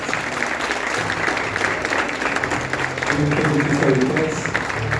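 A church congregation claps during a communion service, sustained applause filling the room steadily while a voice speaks over it.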